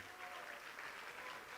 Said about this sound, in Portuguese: vamos aplaudir ao nome do Senhor